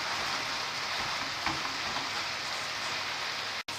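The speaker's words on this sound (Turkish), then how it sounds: "Şimdi mantarları koyuyoruz" Mushrooms frying in a pan with fish, a steady close crackle and hiss of sizzling moisture that runs continuously and evenly, with a faint utensil tap and a brief dropout near the end.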